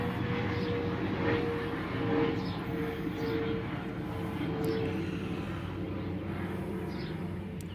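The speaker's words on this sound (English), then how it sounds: "sorry for the plane going over here" Steady low rumble of a plane passing overhead, a broad continuous roar that swells slightly and persists throughout, with no talk.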